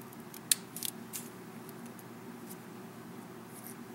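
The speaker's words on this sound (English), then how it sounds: "being careful not to cut the string or any other pieces of straw" A sharp close snip from scissors cutting through pieces of straw while trimming a straw star, followed by a few fainter clicks and rustles over a quiet hum, with no talking.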